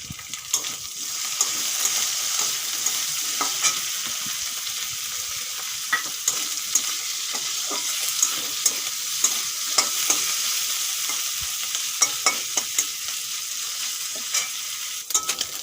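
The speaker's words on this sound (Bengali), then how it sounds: "চিংড়ি মাছ আর আলু ভালো করে ভাজা হয়ে গেছে এখন তুলে নেব" Prawns and potatoes fry in a pan with salt and turmeric, giving a steady sizzle broken by scattered sharp clicks of stirring, with no talk throughout.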